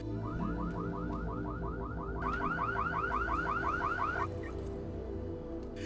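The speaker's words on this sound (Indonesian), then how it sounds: "tiba-tiba alarm mobilnya berbunyi" A car alarm sounds alone for several seconds, a rapid warbling siren repeating in a steady cycle that jumps to a higher pitch partway through and then cuts off, loud and close.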